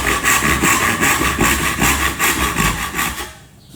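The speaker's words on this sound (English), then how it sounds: "all we do is use our tenon saw to neatly and tidily follow" A tenon saw cuts a dovetail joint in wood with loud, close, rhythmic back-and-forth strokes, about a dozen in quick succession, before it stops.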